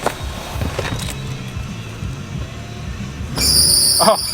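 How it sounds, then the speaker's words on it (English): An idling BMW E36 gives off a sharp high squeak near the end over a low engine hum, with a few brief clunks earlier. "Oh, the squeak's back."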